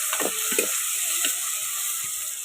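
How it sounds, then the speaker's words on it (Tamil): Onion and tomato sautéing in a pan give a steady, close sizzle with scattered scraping clicks of a spatula stirring the vegetables. "வெங்காயம் தக்காளி போட்டுக்கலாம். இப்போ வதக்கிக்கலாம்."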